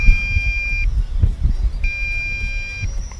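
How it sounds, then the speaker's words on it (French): An MJX X104G GPS drone gives a long low-battery beep: two steady high electronic tones, each lasting about a second with a gap between, over low rumbling wind and handling noise outdoors. "Là, on a un bip long, maintenant."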